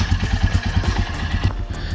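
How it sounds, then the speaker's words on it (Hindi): A motorcycle engine runs at a steady idle on a mountain trip near Devalsaari, with a low, evenly pulsing throb and a faint clatter, close and continuous without speech. "बाइक हो गया है काफ़ी, तो बाइक को फिलहाल बंद करते हैं।"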